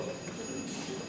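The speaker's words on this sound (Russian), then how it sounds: "Телефон!" A telephone bell rings continuously in an indoor room during a stage performance, a steady bright electric ring held throughout the short moment with no pause.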